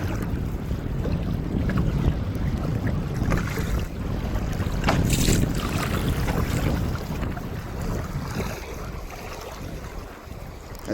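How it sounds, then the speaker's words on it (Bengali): Strong wind and choppy waves on a river during a storm, a constant rushing roar with buffeting wind noise against the microphone and splashing water, loud and unbroken throughout. "নদীতে কিন্তু খুব ঢেউ হচ্ছে আর তেমন হাওয়া।"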